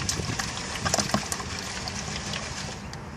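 Water and gravel slosh and rattle in a gold pan being shaken by hand, a steady close-up swishing with brief splashy peaks and a faint crunch of stones throughout.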